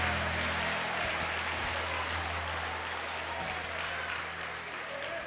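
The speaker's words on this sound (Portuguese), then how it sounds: "tome o seu assento aplaudindo a Jesus" A church congregation applauds during a worship service, producing a dense, continuous wash of clapping over a low steady hum.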